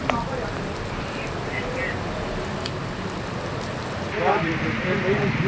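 Heavy, unbroken rain falls in Nellore, a steady dense hiss of drops on surfaces that grows louder and fuller near the end, with no voices.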